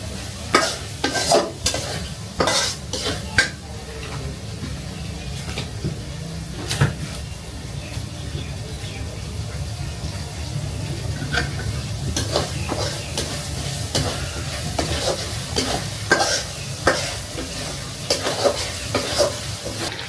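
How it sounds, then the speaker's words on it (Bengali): Egg frying in a pan in a home kitchen, stirred with a utensil: a steady close sizzle runs throughout, broken by sharp scraping and clinking strokes that come in irregular bursts, with no talking. "এই যে আমি হচ্ছে ডিমটা ভাইজা নেই সুন্দর করে।"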